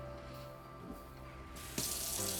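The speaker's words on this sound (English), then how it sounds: "I'm just gonna go with cold water over it" Cold water runs from a kitchen tap over cooked green beans, a steady splashing stream that suddenly grows louder and brighter partway through.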